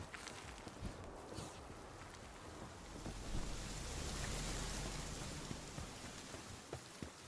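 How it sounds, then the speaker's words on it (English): Rain sound effect in Palworld: a faint, steady hiss of falling rain with a soft, low rumble swelling in the middle. "Sound effect implies rain, but there's no rain."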